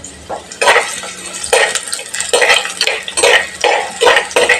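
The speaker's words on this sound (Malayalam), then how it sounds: "ഇപ്പം ഞാൻ എണ്ണ ചൂടാകുന്ന സമയത്ത് നീരുള്ളി ഇട്ട് കൊടുത്തിട്ടുണ്ട്" Shallots fry in hot oil in a pan, stirred in loud, close bursts of scraping and rattling that come about every second over a low crackle, with no voices.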